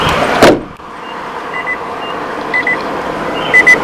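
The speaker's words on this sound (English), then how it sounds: "we're closing the door. I believe the inside will chime" A 2018 Nissan Pathfinder SV door swings shut with one solid thump, followed by a quiet interior chime repeating roughly once a second in the cabin's hush.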